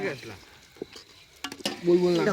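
Maggi noodles stirred in a pan while cooking: a spoon scraping and clattering through the noodles over a light sizzle, with a few sharp knocks near the end and people talking over it.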